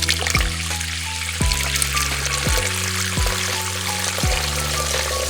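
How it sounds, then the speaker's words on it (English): About 400 ml of water poured into a pan of flour-thickened sautéed mushrooms gives a close splashing gush over a lingering sizzle, with background music playing and no talking. "Now I am going to add 400 ml of water."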